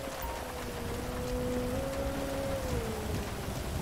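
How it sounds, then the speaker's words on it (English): Steady rain in Grand Theft Auto V hisses continuously, a dense even wash of drops, with a faint sustained tone gliding underneath. "Raining out here."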